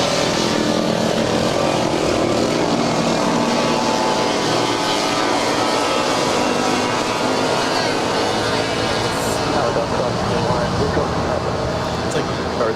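Loud, continuous propeller drone from a Cessna Caravan at LAX airport, steady and unbroken across the whole stretch, with faint talk underneath.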